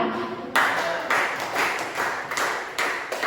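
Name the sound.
applause for group 2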